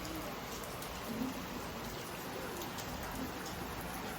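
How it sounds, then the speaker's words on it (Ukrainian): Steady rain falls outdoors in the mountains, a constant broadband hiss of drops on surfaces that holds an even, moderate level throughout with no voices. "бо зараз дощ, холодно"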